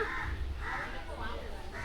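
A crow caws outdoors, with several harsh, repeated calls at a steady moderate distance, mixed with people talking.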